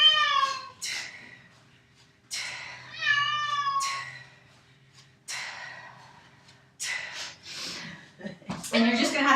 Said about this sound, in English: you're just gonna have to deal with my cat having a fit right now because she's confused